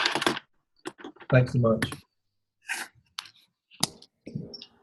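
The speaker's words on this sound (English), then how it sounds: "I think they're still clicking." Keyboard clicking and typing from someone's unmuted microphone during an online class session, faint and intermittent in the background between bursts of nearby talk.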